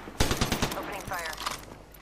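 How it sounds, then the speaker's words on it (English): Automatic weapon fire in the Apex Legends video game, a loud rapid burst of several close shots at the start, then fading into game effects and a brief in-game voice line. "Opening fire."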